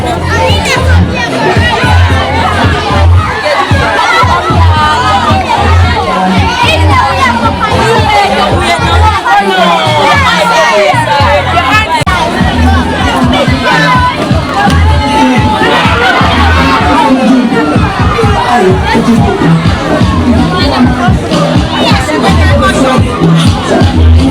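A massive, hectic crowd with many young children gathered for an ice cream treat event, a dense continuous babble of voices with kids shouting and calling out, loud and unbroken throughout.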